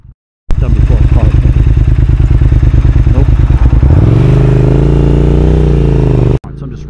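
A 2022 Triumph Speed Twin motorcycle rolls along at close range, its engine pulsing loudly and steadily before the revs settle into a smoother, sustained drone.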